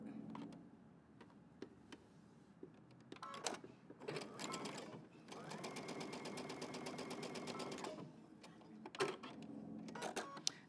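A sewing machine back stitches a pleat on a garment, quiet and close, with short bursts of rapid mechanical ticking and a longer steady run in the middle, separated by brief pauses.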